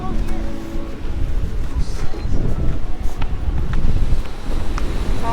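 Wind buffeting the microphone on Santa Monica beach, a steady low rumbling roar with gusty swells throughout, with faint surf and distant voices underneath.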